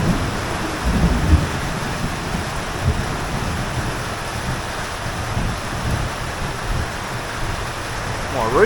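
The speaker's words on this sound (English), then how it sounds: "How much rain's coming down." Heavy rain drums steadily on a shallow-pitched roof during a thunderstorm, with low rolling thunder and gusty wind noise forming a dense, loud, continuous wash throughout.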